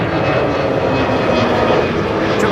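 Jet engines of a China Southern Cargo Boeing 777 freighter roar steadily at the runway before takeoff, a loud continuous broadband rumble and whine with no talk.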